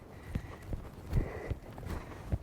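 A young, green horse walks on a training track, its hooves clip-clopping in a soft, uneven rhythm of single knocks at moderate distance.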